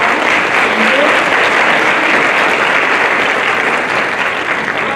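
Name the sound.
round of applause at National Honor Society ceremony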